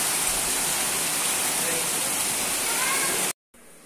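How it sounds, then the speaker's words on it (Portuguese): Heavy rain pours in a loud, steady, dense rush that cuts off abruptly near the end. "Hoje o dia foi feio, gente, de chuva. Olha, choveu demais, demais."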